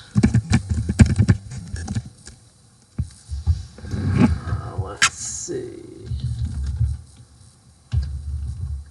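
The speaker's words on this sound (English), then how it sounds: "Going to see if I can not have it so loud when I'm typing." Computer keyboard keys clatter in uneven bursts of typing, pausing and resuming, with a low hum and some faint background sounds.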